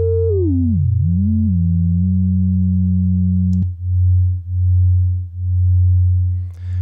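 Two synthesizer sine waves play together as they are brought into tune: a single steady tone sweeps down and back up, then a lower pair sounds at once with a slow, regular beating pulse as their pitches nearly match.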